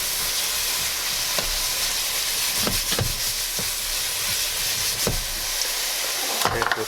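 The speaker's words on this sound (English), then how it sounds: "Behind the onions, I'm going to do a scoop of minced garlic." Minced garlic and onions sizzle in a hot pan, a steady, loud hiss running throughout, broken by occasional clicks and scrapes of stirring.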